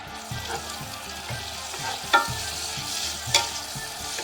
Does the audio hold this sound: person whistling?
no